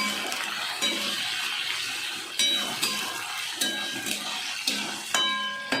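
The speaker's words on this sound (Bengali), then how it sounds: "আদা বাটাটা একটু ভাজা ভাজা হবে।" Ginger paste sizzles in a hot pan with a bright, continuous fry, and a utensil scrapes and knocks against the pan in repeated stirring strokes.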